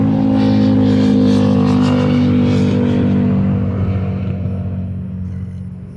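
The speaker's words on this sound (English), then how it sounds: "Sorry about the noise, I'm right here on the highway." Loud, continuous highway traffic rumbles close by, a dense low roar of passing vehicles that slowly eases off toward the end.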